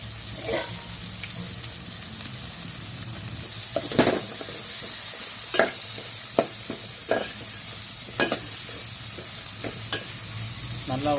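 Prawn masala sautés with onion garlic paste and curry leaves, giving a steady loud sizzle in the pan. Repeated scraping strokes of a spoon cut through it at irregular intervals.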